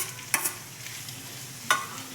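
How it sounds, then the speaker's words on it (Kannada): Cut potatoes tipped into a pan of fried onions and stirred, with a soft steady sizzle underneath and two sharp scraping clatters of the spoon against the pan, close by, with no voices. "ಈರುಳ್ಳಿ ಎಲ್ಲ ಬೆಂದಿದೆ, ಆಲೂಗಡ್ಡೆ ಕಟ್ ಮಾಡಿರೋದು ಹಾಕೋತಾ ಇದ್ದೀನಿ."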